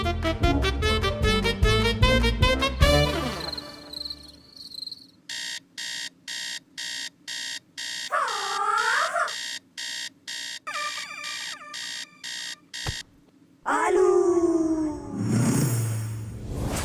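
An alarm rings loudly in repeated electronic beeping bursts, shifting through several tone patterns with warbling and chirping sections, set in a household scene from a drama episode.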